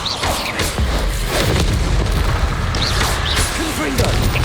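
Repeated booming blasts from the Confringo spell in Hogwarts Legacy, a dense run of thumps and crackling bursts with game music and effects layered throughout, loud and continuous.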